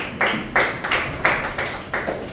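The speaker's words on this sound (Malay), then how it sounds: "tepukan untuk kawan awak" Children at a camp activity clap for a friend in a few short, loud bursts of applause, about six distinct claps or clap groups in quick succession, close and without talk.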